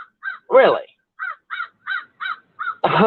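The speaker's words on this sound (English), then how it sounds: "This fucking bird, man." A crow caws repeatedly in a steady series of short, loud calls, with someone speaking in bursts between and over the calls.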